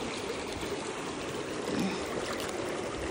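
Mountain river water rushing steadily over rocks on a day hike at Mt. Mariglem, a continuous broadband wash at close range with no talk.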